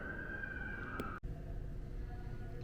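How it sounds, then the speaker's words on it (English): A fire truck siren holds a steady wail over busy street noise in Hot Springs, Arkansas, then cuts off abruptly partway through, with traffic rumble continuing afterward; no one speaks. "Oh yeah, here comes a fire truck."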